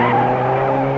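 A sports car's tires squeal loudly in a sustained skid through a curve, with the engine droning underneath for the full second.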